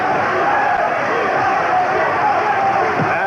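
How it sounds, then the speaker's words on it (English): A boxing arena crowd roars in a steady, dense wash of cheering for champion Julio Cesar Chavez in his bout against Rocky Lockridge, loud and continuous throughout, with a commentator talking over it. "And the crowd rooting for the champion"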